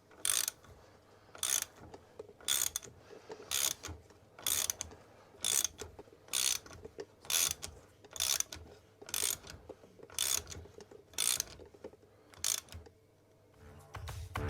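A ratchet wrench tightens a strut nut on a Subaru Impreza WRX STI suspension strut, giving a steady series of about a dozen short, close ratcheting bursts in an even rhythm against a quiet workshop background.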